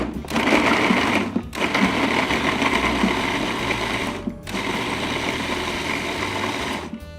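A food processor pulses potatoes for tater tots in three loud, whirring bursts, each cut off by a brief silent gap.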